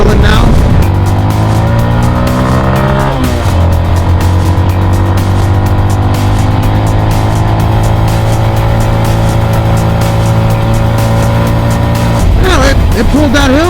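Small Honda Monkey motorcycle engine with a 14-tooth front and 36-tooth rear sprocket pulling up a hill, a steady close buzzing drone held at high revs with a gear change near the start and wind buffeting at the edges.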